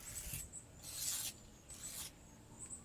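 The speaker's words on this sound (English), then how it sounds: "Scrape into the corrosion there." A hand scraper rasps corrosion off the deck of an LS engine block in a few short, close scraping strokes separated by quiet pauses.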